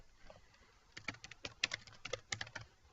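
A search query being typed on a computer keyboard: quiet, irregular bursts of key clicks at close range, with no voices.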